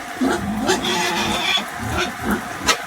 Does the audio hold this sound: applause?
no